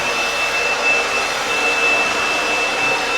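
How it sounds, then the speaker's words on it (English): Blower clearing dust, a steady, loud, continuous airy whoosh with a thin high whine running through it, close by, with no voices. "it gets pretty dusty when you blow it with the blower"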